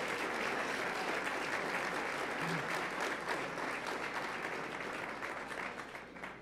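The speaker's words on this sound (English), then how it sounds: "she deserves a round of applause" Steady, dense applause from a gala audience at a Susan B. Anthony List event fills the room, holding loud and even before thinning slightly at the end.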